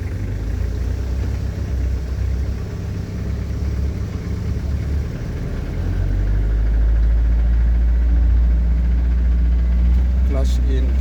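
A code 10 truck's engine idles and then rises to a louder, deeper steady drone as it accelerates during a driving lesson, the low rumble dominating the recording, with an instructor speaking over it.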